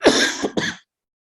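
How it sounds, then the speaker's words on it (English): A short burst of two harsh, dry coughs close to the mic from a person recovering from COVID, the first longer, the second clipped, then silence. "I'm sorry, I'm coughing."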